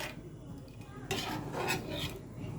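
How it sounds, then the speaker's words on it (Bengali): A spoon scrapes and stirs through salted mustard hilsa curry in a pan, soft metallic scraping that grows busier halfway through, quiet and close with faint background hiss. "দিয়ে একটু ভালো করে নাড়িয়ে নেব।"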